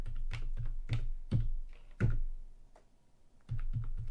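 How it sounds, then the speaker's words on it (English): Keys tapped on a computer keyboard while entering a password on a Kali Linux Raspberry Pi 5, close and clear, a quick irregular run of clicks, a brief pause, then a few more presses. "home directory new password so i'm going to type a new password"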